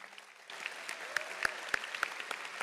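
An audience at a high school graduation ceremony applauds in a large hall. The clapping swells from a light start into steady, dense applause, with a few sharp individual claps standing out nearby.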